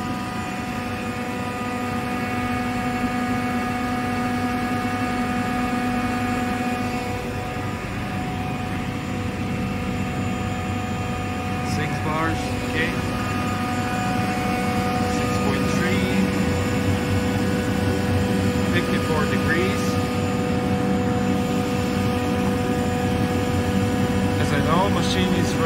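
A KAESER screw air compressor runs steadily, building pressure toward 11 bar, with a constant droning mechanical hum and tonal whine at close range while a person talks over it.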